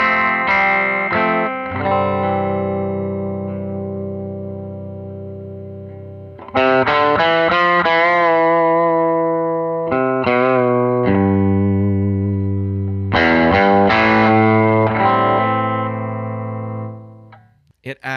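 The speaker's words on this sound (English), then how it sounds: "Now let me engage the Greer light speed." Electric guitar played through a Greer Lightspeed overdrive pedal on a Nashville-style pedalboard: sustained chords and ringing notes in three loud phrases, each decaying, with mild grit and effects coloring.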